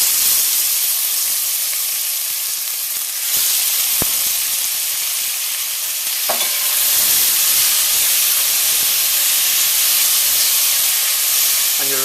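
Seasonings hitting hot caramelized sugar in a pot for coconut stew beef, giving a loud continuous hissing sizzle that holds steady throughout with a couple of faint clicks, no voices.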